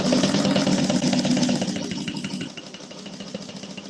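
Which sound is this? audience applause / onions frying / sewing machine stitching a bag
sewing machine stitching a bag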